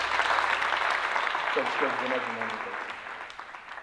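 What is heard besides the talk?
applause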